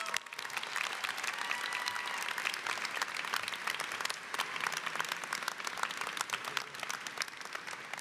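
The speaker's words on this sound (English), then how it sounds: "Let's give them another round of applause." A large audience claps for award recipients at the Swarthmore College 2024 commencement, a dense, even wash of applause that continues at steady strength throughout.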